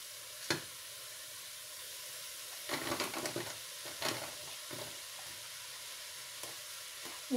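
Minced meat and onions sizzle steadily in a pan at low volume, with a few scraping stirs along the way and no talk.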